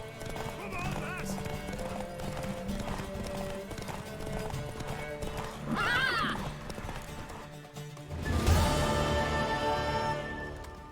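A horse in The Witcher 3: Wild Hunt gallops with steady clip-clop hoofbeats and lets out a sharp neigh near the end, all under a continuous music and voice bed.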